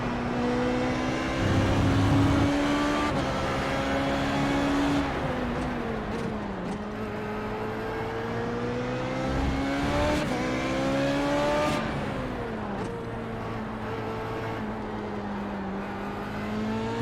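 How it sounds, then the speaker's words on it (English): A Formula Renault 3.5 V8 in the iRacing game on the Hungaroring circuit howls continuously up close, climbing through the revs, dipping on gear changes and lifts, then pulling hard again, with engine noise throughout and no talk. "It's a V8 that seems to pull pretty well from down low"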